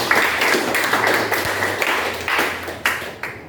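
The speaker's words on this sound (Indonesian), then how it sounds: "Tepuk tangan dulu untuk Serena" A classroom of students clapping together for a classmate, a dense patter of hand claps at moderate distance, fairly loud and continuous with a few sharper taps standing out.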